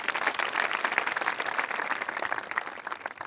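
A crowd applauds in praise of God at a religious gathering, with steady, dense clapping that holds loud and close for the full stretch, no voices standing out.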